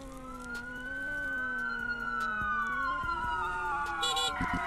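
A police car siren in a video game wails steadily at moderate volume, its pitch sweeping slowly, with faint engine and traffic noise beneath and a few clicks near the end.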